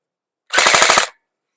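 A Game Face Insurgent AK-47 electric airsoft gun fires a short burst of about six rapid rounds outdoors, loud and close, with silence on either side.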